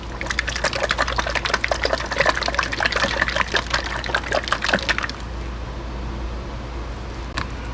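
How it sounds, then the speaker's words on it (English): A bottle of Liqui Moly Ceratec oil additive shaken hard, giving a dense, rapid sloshing and rattling of liquid close by for about five seconds before it stops and only quiet room noise remains. "So it says here to shake thoroughly, so that's what we're gonna do right now."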